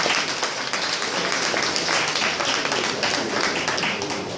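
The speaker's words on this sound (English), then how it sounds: "I think that deserves a round of applause." An audience at a ministerial press briefing on energy and mineral resources claps in a dense, even round of applause that stays loud for the whole few seconds.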